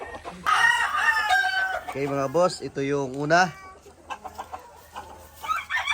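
Fighting roosters being readied for conditioning crow and cluck up close, with several drawn-out crows in the middle and scattered clucks; someone speaks briefly at the start over the birds.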